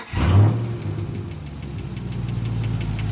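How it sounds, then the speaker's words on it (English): A Camaro SS fitted with a modified intake rumbles loudly after a brief rise in revs, then holds a deep, steady idle with a lopsided, lumpy beat for the rest of the stretch, close by and without talk. "Rev it, see what it do."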